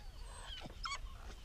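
Hunting dogs out after wild hogs in South Arkansas give a few faint, distant whines and yips over a quiet outdoor background.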